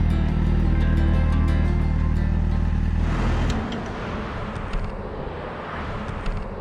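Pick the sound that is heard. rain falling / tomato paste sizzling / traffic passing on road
traffic passing on road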